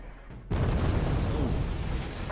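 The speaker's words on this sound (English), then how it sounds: "That is artillery fire." Artillery fire in Wargame: Red Dragon starts with a sudden deep boom after a quiet half-second, followed by a sustained, loud, rumbling roar that slowly fades.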